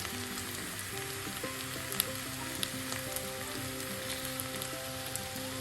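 Okra and potato stir-fry sizzling steadily in a pan while being stirred, a continuous close frying hiss broken by small crackles and occasional utensil taps.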